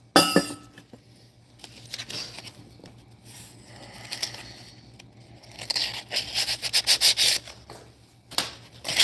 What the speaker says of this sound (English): New sandpaper.